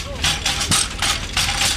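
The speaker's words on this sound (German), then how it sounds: "Mit diesen von einem Motor in Bewegung versetzten Hämmern werden die Fasern vom Holzkern der Hanfpflanze befreit" Motor-driven hammers stripping hemp fibres from the woody stalks beat in a steady, regular pulse of thuds over a low motor hum, close and fairly loud.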